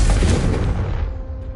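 The Confringo fire spell in Hogwarts Legacy lets out a single loud, deep booming blast that rumbles and fades out over about a second and a half.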